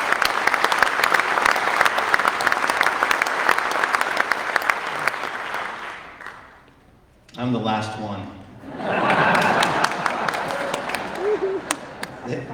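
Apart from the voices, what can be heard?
audience applause at community meeting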